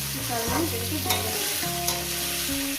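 Drumsticks (sajne data) and potatoes frying in spices in a pan for a sole fish curry, a steady close sizzle with a few stir scrapes and background music playing.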